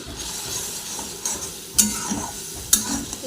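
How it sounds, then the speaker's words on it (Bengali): Spices and chili powder hitting hot oil in a pan, a close, steady sizzle broken by a few sharp crackling spits and a faint clink of cookware. "লঙ্কা তেলের মধ্যে সব মশলা দিয়ে দিয়েছি এই যে লঙ্কার গুঁড়োটা বাকি ছিল ওটাও দিয়ে দিলাম"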